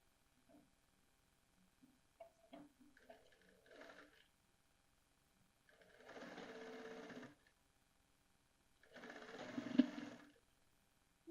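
A sewing machine stitches fabric in a straight seam during garment tailoring, running in two sustained bursts of a few seconds each, preceded by quiet handling and clicking of the cloth and machine.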